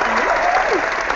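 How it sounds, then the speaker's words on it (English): Brief burst of dense hand clapping from a small group of people, steady and close throughout, with a voice calling out over it. "Why am I clapping?"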